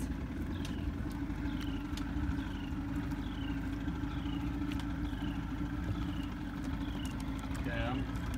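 An outboard motor on a boat runs steadily and loudly at close range while catfish lines are picked up, with a continuous low drone and faint chirping birds above it.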